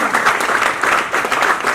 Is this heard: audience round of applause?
yes